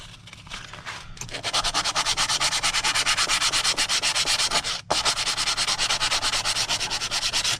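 Rapid, steady back-and-forth hand sanding of a wood sample with sandpaper, close and loud, with a brief pause near the middle before the even rasping strokes resume.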